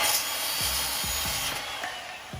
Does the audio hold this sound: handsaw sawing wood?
yes